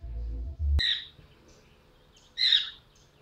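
Pet bird chirping indoors, two short bright chirps about a second and a half apart, close and clear after a brief low thump, with no talking.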